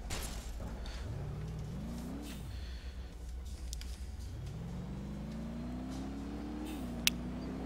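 An ETK K Series car driven off-road in BeamNG.drive, its engine note dipping and rising, then climbing steadily in a long sustained pull, with a single sharp click near the end.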